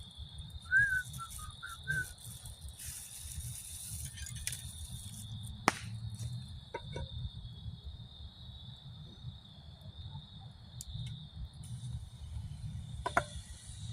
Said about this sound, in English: Sizzle, sizzle, sizzle.